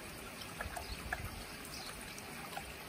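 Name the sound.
water sprinkled over wound seal on a koi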